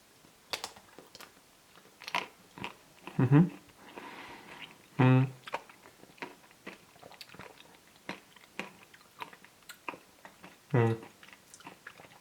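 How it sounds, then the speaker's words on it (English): Crunchy bites and chewing of a Magnum Utopia Double Cherry ice cream bar with a crisp chocolate shell, scattered sharp crackles close to the mouth amid quiet moments and brief bits of speech. "we do not only have the crunch of the chocolate, but we also have the crunch of these"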